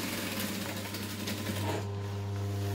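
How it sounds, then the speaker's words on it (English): A sewing machine runs steadily through a back stitch on the lining of a handbag, its close, even motor hum broken by a faint shift in tone near the end, with no voices. "I'm actually just going to jump straight across and start stitching the lining without cutting that"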